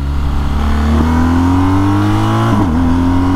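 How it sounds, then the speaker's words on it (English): A BMW motorcycle engine, an R1250GS or S1000XR, pulls steadily up through the revs on the road with a loud, continuous drone, briefly dipping in pitch for a gear change near the end. "You can feel this engine sputtering too."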